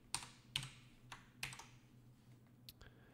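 Computer keyboard keys tapped in an irregular run of distinct clicks while code is entered, close and fairly quiet, with no voices.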